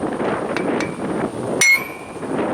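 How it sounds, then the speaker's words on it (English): A single hard hammer whack on the edge of a differential axle on a 1-ton dually truck gives a sharp metallic clang with a brief ring, close and loud against a steady background hum. "Now I just need one big whack right on the edge of that."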